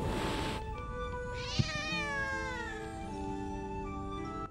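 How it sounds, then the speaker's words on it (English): A giant cat in the video game Tales of Ape Marina gives a long, drawn-out meow with wavering pitch, close and loud, over a steady ambient game music bed. "A gigantic cat."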